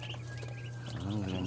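Ducklings peep and chirp quietly over a low background hum, with a few thin tweets near the end.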